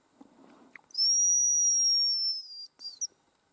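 A hunting decoy whistle for hazel grouse sounds one long, thin, high-pitched sustained note, then two short chirps, clear and alone in a quiet forest.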